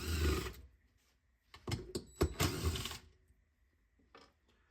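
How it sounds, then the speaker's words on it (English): A screwdriver removes two screws from a Lithonia Lighting TWH 250-watt metal halide wall pack fixture, close ratcheting and metallic scraping in a few short bursts separated by quiet pauses. "it looks like we just need to take out 2 screws right here to get inside"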